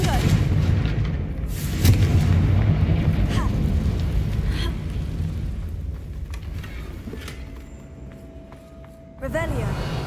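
A Confringo spell blast fires in the Hogwarts Legacy video game: a deep booming burst with rumbling impacts that fade, followed by another sharp hit near the end, all under ongoing talk.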